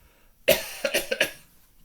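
Several dry coughs close together, one sharp hack followed by a few quicker, weaker ones, close by with no talking.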